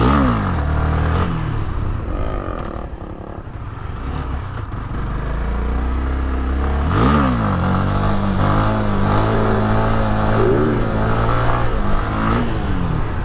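A 2018 Honda CB Twister 250 motorcycle engine revs hard in first gear in repeated surges during a street wheelie, rising and falling in pitch, loud and close, with no talking.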